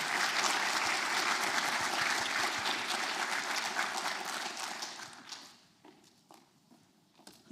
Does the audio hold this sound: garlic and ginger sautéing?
no